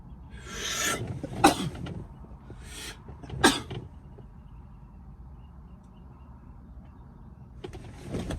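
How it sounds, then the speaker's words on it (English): Two sharp sneezes burst out close by, each a quick explosive blast, followed by quiet room noise. "Sneeze."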